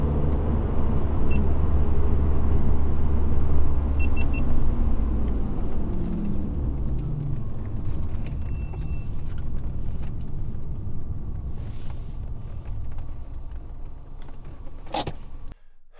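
A BMW E36 with an S54 engine drives along a highway at speed with a heavy low rumble and road roar, steady and close, a few faint clicks and creaks over it.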